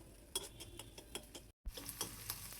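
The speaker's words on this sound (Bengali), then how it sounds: "শাক ভাজি করবো এখন" Greens (saag) frying in oil with onion in a pan, a faint steady sizzle broken by scraping stirs and light utensil clicks, with a brief silent gap midway.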